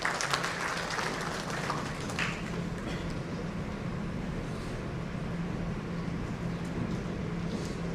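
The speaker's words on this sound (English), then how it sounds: "Let's have a round of applause for him" Steady applause from an audience at a business conference on datacenter and cloud solutions in Mumbai, a continuous even wash of clapping that holds at the same loudness for the whole stretch with no voices over it.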